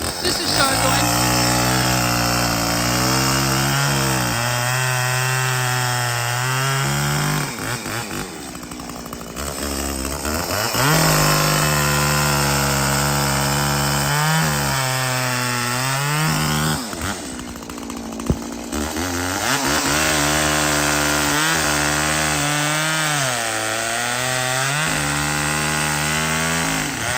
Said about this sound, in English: We're just gonna cut up a couple logs just to show